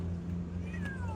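A stray cat lets out a single drawn-out meow near the end, rising then sliding down in pitch. It is fairly faint over a low steady background hum, with no voices.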